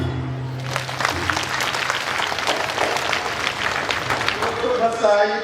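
A room full of people claps warmly for several seconds at a parish Nuakhai festival Mass celebration; a voice is heard briefly before and after.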